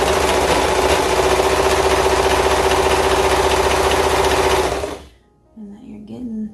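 A serger sewing machine stitches along the edge of knit fabric for a romper, running as a loud, steady whirring hum for about five seconds before stopping abruptly, followed by faint handling sounds.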